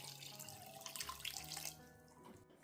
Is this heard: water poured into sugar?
yes